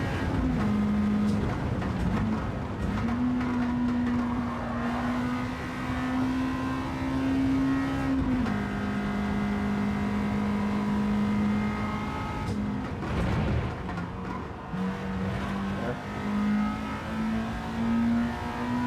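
A detuned race car engine in a sim racing game played on a Fanatec GT DD Pro wheel, running at a steady drone with gentle rises and dips in pitch as it revs and shifts, loud and continuous throughout.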